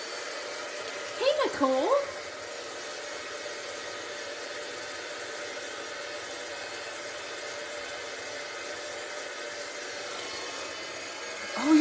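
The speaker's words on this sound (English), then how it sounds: "I'm gonna grab my embossing gun and heat it up" An embossing heat gun whirs steadily as it heats up, a constant airy blowing hiss that runs close and loud for the whole stretch, with a brief spoken greeting near the start.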